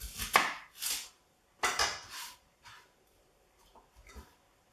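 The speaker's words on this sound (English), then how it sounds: "All we need to do here is chop our onions a bit" A knife chops onions on a cutting board in a few distinct, close strikes and slices, in short irregular bursts separated by quiet gaps.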